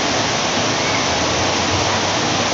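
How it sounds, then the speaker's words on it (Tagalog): Heavy rain pouring during tropical storm Auring in Bohol, a dense, loud and continuous hiss of water drumming on surfaces, steady throughout with no voices. "Ulan man, di."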